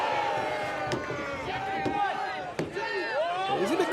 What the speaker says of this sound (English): A lot of Let's Go Izzy's in this crowd right now.